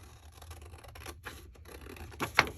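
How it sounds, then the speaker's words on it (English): Scissors cut out a vintage paper receipt, a few short, close snips and rustles, soft and quiet with no talking. "I think I'm going to cut this one out"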